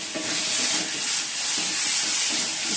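A pressure cooker holding cut banana stem hisses steadily, a loud continuous jet of steam with slight swelling pulses, heard alone in a home kitchen.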